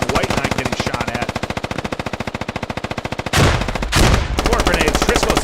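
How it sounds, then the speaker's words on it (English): Rapid automatic gunfire rattles in a long sustained burst during a competitive shooter video game match, followed by a couple of louder blasts, close and dominant throughout. "This shooting, White Knight getting shot at"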